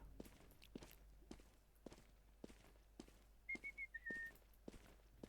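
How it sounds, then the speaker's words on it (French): Footsteps tread steadily while a character's short whistled tune of a few clear rising notes sounds midway, with faint background game ambience, in Roblox Evade. "Ah oui, je peux siffler."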